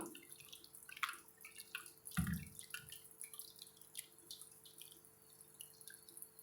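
Ivy gourds rinsed and squeezed by hand in a basin of water: soft sloshing, dripping and wet splashes come close and fairly quiet, with one fuller splash midway.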